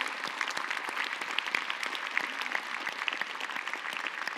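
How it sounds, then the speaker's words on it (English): An audience at an awards ceremony applauds steadily, a dense patter of many hands clapping at moderate loudness, filling the room evenly from start to finish. "Now you can applaud."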